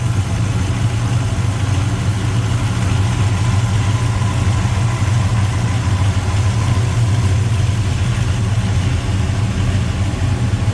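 A 1969 Dodge Charger's big V8 engine with headers idles steadily with a deep, even rumble that holds at the same level throughout, close and loud, with no voices.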